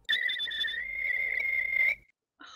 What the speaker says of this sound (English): Whistling into a voice changer.